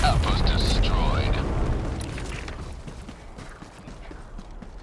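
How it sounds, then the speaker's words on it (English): Orbital strike explosion in the video game Helldivers 2, a deep rumbling boom that rolls and fades over several seconds, heard alongside game voice lines. "Firing orbital strike."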